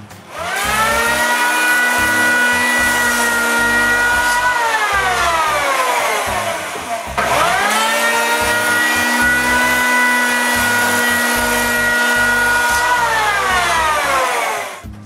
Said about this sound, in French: Puis je fais le biseau avec la varlope électrique